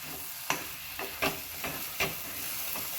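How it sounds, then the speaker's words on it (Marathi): Red chilies with salt sauté in a pan for thecha, a soft continuous sizzle punctuated by about six quick scraping stirs, fairly quiet and close, with no voices. "छान याला परतून घेऊया"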